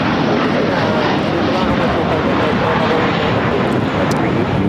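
A heavy airliner on approach to land on runway 25 left at Los Angeles International Airport, its broad engine roar loud and steady throughout, with a voice talking over it.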